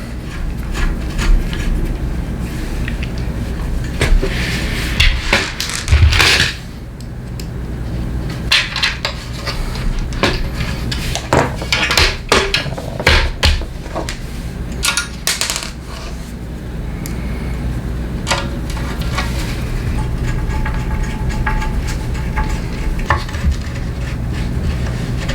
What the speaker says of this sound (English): we have to turn around the screwdriver so that we can use the hex end of it